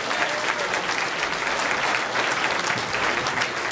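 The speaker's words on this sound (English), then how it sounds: "let's give Joe a round of applause" An audience applauding at a newspaper's ninth anniversary party, dense steady clapping from a crowd indoors, loud and continuous with no break.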